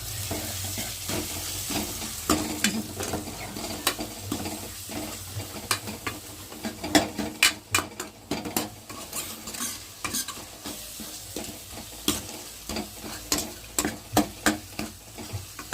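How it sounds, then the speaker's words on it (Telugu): Curry with chili powder sizzles in a pan while a spoon scrapes and clanks against the metal again and again in an irregular, close stirring rhythm over a constant frying hiss. "ఇప్పుడు తగినంత కారం వేసుకొని ఇంకా బాగా కలపెట్టుకోవాలి"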